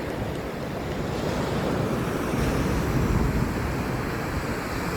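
Sea waves breaking on the shore at San Juan, a steady loud wash of surf with wind buffeting the microphone throughout.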